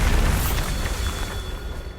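A Bombarda spell explosion in Hogwarts Legacy lands as a loud, heavy boom with a deep rumbling tail that slowly fades over about two seconds.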